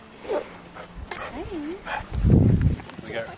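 A dog at an antique shop on Cape Breton Island gives short whimpers and a low growling bark between bursts of people talking, fairly close and intermittent.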